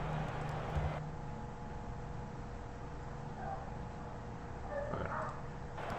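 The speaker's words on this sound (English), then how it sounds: "She's still barking at the end of this." A dog barks faintly in the background of a room: a few short, distant yips and barks come and go, low in level under a steady hiss and soft background noise.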